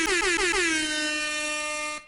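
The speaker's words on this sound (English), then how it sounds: "We can add an air horn" A loud air horn blasts in a few quick stuttering bursts, then holds one long sustained tone before cutting off abruptly.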